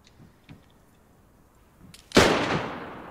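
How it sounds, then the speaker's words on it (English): After a few faint taps, a single loud gunshot from the DayZ survival game cracks close by and rings out with a trailing echo. "You might hear some shots in a second here."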